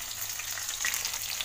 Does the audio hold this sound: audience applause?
no